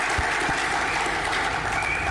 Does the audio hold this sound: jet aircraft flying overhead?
no